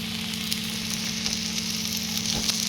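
Methi thalipeeth frying on a tava as oil is trickled into holes in the flatbread, giving a steady, close sizzle with soft crackles and no talking.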